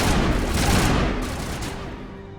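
Gunfire during a firefight in the video game Mass Effect, a loud burst of overlapping shots and booms at the start that gradually tails off and fades over a couple of seconds, with no voices.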